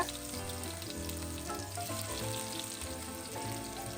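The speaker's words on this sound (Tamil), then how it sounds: "இப்போ இந்த கபாபை ரெண்டு பக்கமே நல்லா பிரட்டி போட்டு நல்லா செவக்க விட்டு எடுங்க" Mutton seekh kebabs fry in oil in a kadai over a low flame, giving a steady, close sizzle that runs the whole time beneath prominent background music.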